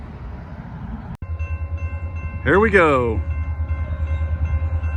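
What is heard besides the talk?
train passing by on railroad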